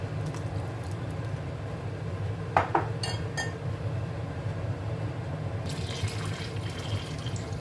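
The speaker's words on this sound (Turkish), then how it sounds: "Hatta biraz daha su ekleyebilirim." Water is added to a simmering pot of Turkish yogurt soup over a steady low kitchen hum, with a few brief clinks of dishes and a light splashing pour near the end.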